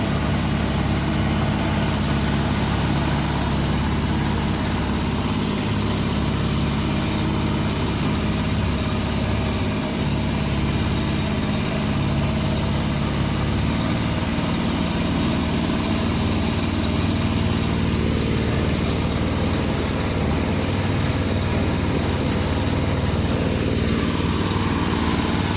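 Sightseeing boat engine droning on a river ride around Don Det in the Mekong, loud continuous motor roar with a steady low hum throughout, no talk.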